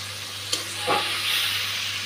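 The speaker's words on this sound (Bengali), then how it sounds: "মশলাটা খুব ভালো করে ভেজে নিয়েছি" Spice paste with ginger paste frying in a pan after onions and green chillies, for a fish curry: a steady close sizzle with a sharp clatter near the start and a brief stirring scrape midway.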